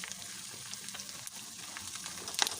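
Edible gum (gond) fries in desi ghee for winter panjiri, giving a quiet, continuous crackling sizzle with small pops and a brief sharper clink near the end.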